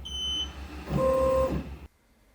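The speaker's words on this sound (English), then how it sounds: "The printer will make a beeping sound and advance the material a little bit." A Brother QL-850 label printer gives a clear, steady electronic beep for about half a second. A low motor whir runs under it as the label material feeds forward, then stops abruptly.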